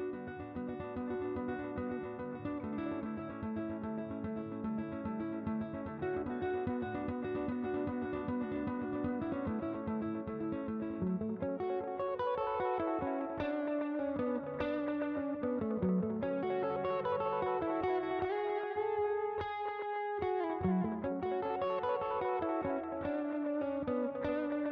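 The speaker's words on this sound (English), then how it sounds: "using a staggered left and right delay. So we have an eighth note on our left channel and an eighth dotted note in our right channel." An electric guitar, run through a staggered stereo delay with eighth-note repeats on the left and dotted-eighth on the right, plays sustained chords and then funky echoing single-note lines, with no talking.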